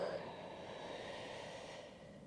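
A slow, deep breath in during a cortisol-lowering breathing exercise, steady and close for about two seconds, a soft airy inhale with no talk over it.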